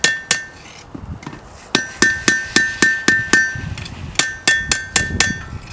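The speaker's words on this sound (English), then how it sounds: "I'm putting this right over the horn of the anvil, just making light taps." A hammer makes light, bright metallic taps on a blade held over an anvil horn, ringing clinks in quick irregular bursts with short pauses between, close and clear.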